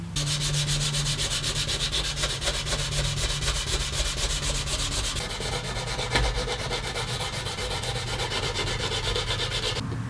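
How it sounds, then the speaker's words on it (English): Wood edges and corners being hand-sanded with sandpaper, a steady continuous rubbing scrape that stays loud and close throughout, with no talking. "I'll just take a little bit of sandpaper, clean up these edges a little bit, around the corners."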